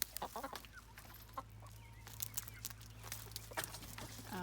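Backyard hens cluck and murmur close by in their run, giving repeated short clucks and a rising squawk at the end. The sound is faint overall, with a steady low hum behind it.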